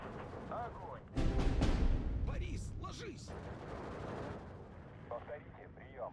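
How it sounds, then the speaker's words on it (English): Mortar fire and battlefield explosions from the WWII strategy game Steel Division 2 on a Soviet campaign: a heavy blast with rolling rumble, then scattered sharper reports and distant booms, under faint game chatter. "Gonna mortar that."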